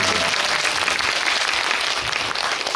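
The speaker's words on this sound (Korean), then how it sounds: "마지막까지 수고해 주신 우리 감독님께 박수 한번 부탁드리겠습니다." Close, loud applause from an audience at a film event honouring the director, a dense burst of clapping lasting a few seconds with no pause.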